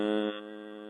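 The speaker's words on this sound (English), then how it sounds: "This is how the nasal humming exhale sounds like." A deep nasal hum sustained on a steady pitch during a slow breathing-exercise exhale, loud at first and then easing slightly softer, heard close and alone.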